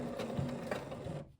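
A sewing machine runs a short, steady burst of stitching on workwear shorts, close up and fairly quiet, with light rhythmic clatter before it stops.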